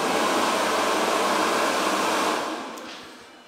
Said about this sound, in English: Let's see if the hand dryer is working.